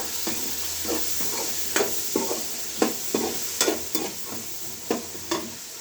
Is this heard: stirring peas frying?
yes